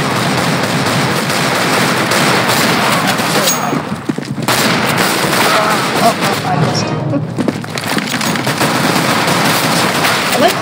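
Dense bursts of automatic gunfire and shots in Counter-Strike: Global Offensive, loud and nearly continuous over ten seconds with brief gaps, a player talking over the action.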